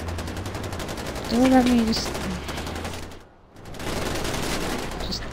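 Continuous rapid gunfire in the Far Cry 4 video game, a steady dense crackle of shots that briefly drops out near the middle, with a voice speaking over it early on.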